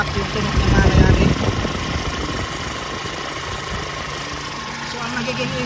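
A 2010 Hyundai Starex CRDi VGT diesel engine idling roughly with an uneven, knocking clatter and a steady mechanical drone, heard close up, with a brief louder rumble near the start.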